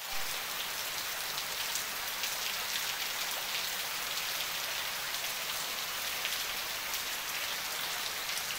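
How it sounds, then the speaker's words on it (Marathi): Steady rain falls on the surfaces around a Konkan village house, a dense, even patter that continues without a break and with no voices. "आज पावसाला सुरुवात झाली"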